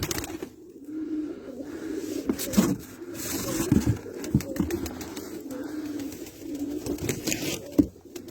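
Pigeons, including newly bought Arab-type birds, coo steadily in a Turkish pigeon loft. The low, continuous cooing is close, with occasional wing shuffles and soft knocks, and no one speaks.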